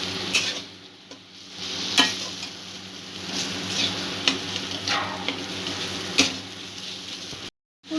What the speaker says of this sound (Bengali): সমস্ত মশলা দিয়ে ভালো করে কষে নেব।